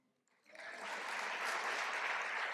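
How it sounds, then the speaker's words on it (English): Applause quickly swells after a brief quiet moment into steady, fairly close clapping from a modest audience that continues to the end. "One more applause for them."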